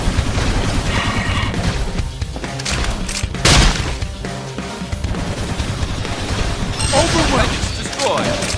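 Dense bursts of gunfire and impact crashes from combat in Xenoblade Chronicles X Definitive Edition, loud and continuous over a pounding music score, with a sharp heavy hit near the middle.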